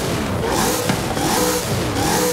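A steady V8 car engine rumble in Forza Horizon 5 holds at a constant roar for a couple of seconds, loud and close, with no speech.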